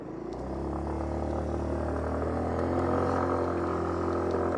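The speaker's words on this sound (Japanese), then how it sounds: "排気音はアクシス Z と比べると若干このモデルの方が大きいと先ほどから感じているのですが、始動時の静かさに関しては全く同じですね。" A Yamaha JOG125 scooter engine starts quietly and settles into a steady, low exhaust drone, heard up close with no one talking over it.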